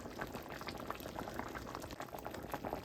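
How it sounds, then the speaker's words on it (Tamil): Tomato kuzhambu bubbles at a steady boil in a pot, a close, continuous churn of popping bubbles with no talking. "கொதிக்கிறேன்."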